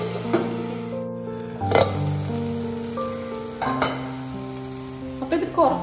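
Tomatoes fry for beef biryani in a pan, a steady close sizzle with a few louder bursts as they are stirred. Sustained tones run underneath and there is no talk.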